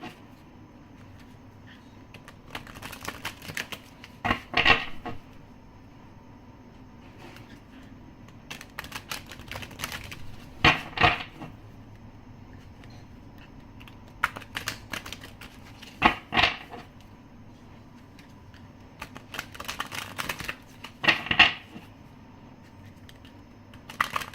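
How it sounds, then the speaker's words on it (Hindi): Tarot cards being deep shuffled make soft, repeated riffling bursts every few seconds over a quiet background, close and fairly faint, with no talking. "सो ये रहे हमारे कार्ड्स को डीप शफल कर लेते हैं।"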